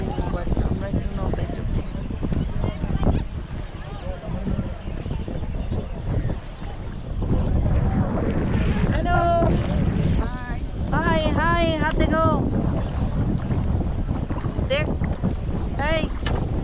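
A boat's motor rumbles under gusting wind and splashing water on a lake in Pokhara, Nepal, while people talk close by over the noise.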